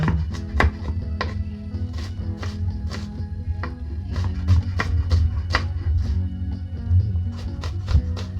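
Knife chopping onion and garlic on a board in a home kitchen, a run of sharp, fairly regular taps over a low steady background hum.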